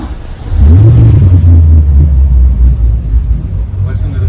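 A 2016 Sea Ray 300 SLX boat engine fires up with push-button start, settling into a loud, deep rumbling idle with a brief rev, up close and continuous.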